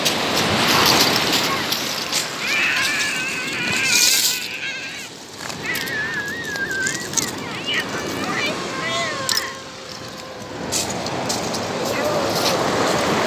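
Sea waves wash onto a beach where children play, a broad rushing surge that swells and recedes under wind buffeting, with children's and adults' voices calling over it throughout.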